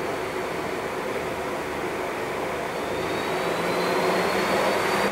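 A three-jaw lathe chuck spins at 4,000 RPM, its maximum speed, producing a steady broadband whir and rushing hum with a faint high whine, constant and moderately loud throughout with no talk.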